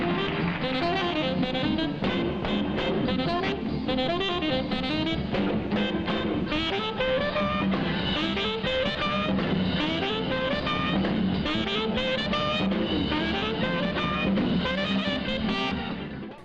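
Upbeat jump blues song with a rhythmic, syncopated lead vocal over a full band, playing continuously and loud throughout.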